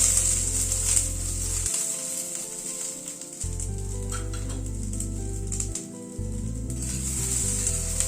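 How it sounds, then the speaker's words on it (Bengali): Okra (bhindi) fries in a pan with a steady, bright sizzle, close and continuous, while occasional stirring scrapes sound beneath it and a low hum drops in and out. "এই মিনিট 2 মতো ভেন্ডিটাকে একটুখানি নাড়াচাড়া করে নিলাম। ভেন্ডিটা হালকা একটু ফ্রাই হয়ে এসছে।"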